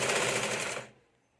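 Sewing machine running fast and loud, stitching a finishing tip on the main blouse fabric of a katori blouse, then stopping abruptly and going quiet.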